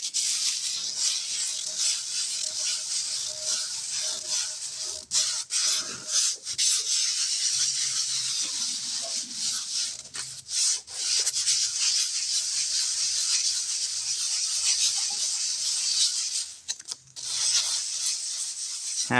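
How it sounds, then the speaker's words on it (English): Sandpaper rubbing steadily across a piece of spalted maple, a continuous close, dry rasping hiss with brief pauses and changes in stroke. "Spalted maple goodness. We're gonna get some sandy on it."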